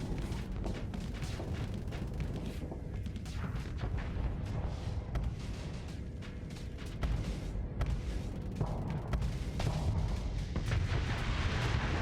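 Torpedo runs fire in the space combat game Starsector: a dense, continuous barrage of booming impacts and explosive bursts, loud and close, with no one speaking over it.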